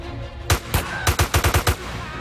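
Kalashnikov rifle fire in the middle of a street in a GTA game: two single cracks followed by a rapid burst of about six loud, close shots, with no voices.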